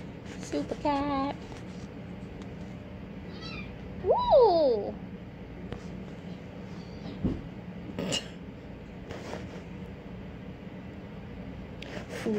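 A rescued kitten meows a few times, high, bending cries that are close and fairly loud, mixed with small clinks and household bumps, and a person speaks briefly in between.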